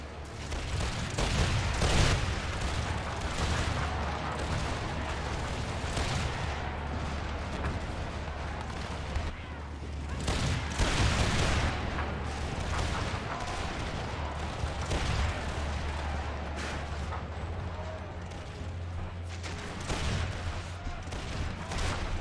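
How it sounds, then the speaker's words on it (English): Massed musket volleys from infantry lines in Empire II, a dense, continuous battlefield roar with repeated bursts of fire and low rumbling booms over about twenty seconds, loud throughout. "Prussian grenadiers do go charging in, but they took a few point-blank volleys"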